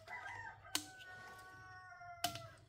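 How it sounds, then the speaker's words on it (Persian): A rooster crows at an odd hour, its drawn-out harmonic call carrying clearly over quiet surroundings, framed by two sharp knocks or clicks nearby, with no voices. "خروس ما بی‌محله."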